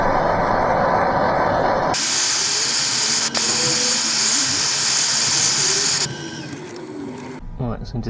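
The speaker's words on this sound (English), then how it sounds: "also going to torch the inside as well" A blowtorch roars with a loud, steady hiss while torching the inside of a turned wood piece being coloured, then cuts off near the end, leaving quieter shop sounds.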